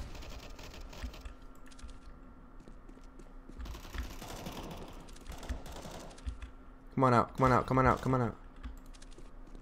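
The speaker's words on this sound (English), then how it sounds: "I'm sorry if y'all can hear my keys. My mic is right next to my keyboard" Computer keyboard keys clatter right next to the microphone in a steady run of close typing, and a voice briefly speaks over it near the end.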